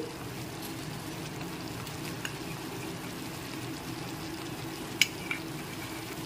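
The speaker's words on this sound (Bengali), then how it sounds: "এবার আমি ওপর থেকে ঘি ছড়িয়ে দিচ্ছি" Ghee is sprinkled over stuffed potol dolma with a chhana filling as it simmers in a pan, under a steady low bubbling and hiss, with one brief sharp tap near the end.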